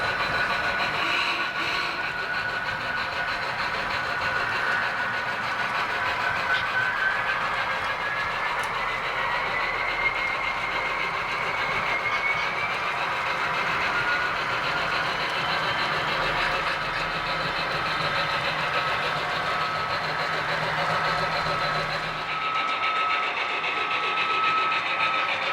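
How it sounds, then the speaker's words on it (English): An HO scale model train rolls continuously along a club layout, a steady mechanical hum and whine with faint track clatter holding throughout before cutting off near the end. "as you see the train traversing past Cape Horn"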